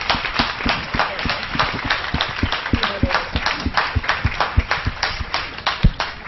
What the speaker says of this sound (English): Guys, a huge round of applause.